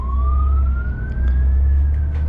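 A police car siren wails on a city street in Ukraine, heard from inside a vehicle. Its tone rises slowly and steadily over a loud, constant engine and road rumble.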